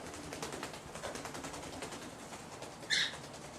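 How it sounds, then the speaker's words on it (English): A pet bird gives one short, sharp call near the end, rising briefly above a quiet indoor room hum. "Bird."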